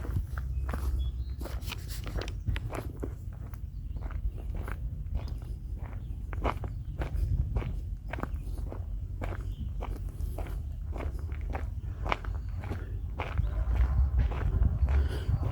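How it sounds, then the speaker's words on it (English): Footsteps crunch on gravel in a steady walking rhythm, close and fairly loud over a low outdoor rumble at a graveside, with no talk. "You can hear my feet or the gravel under my feet."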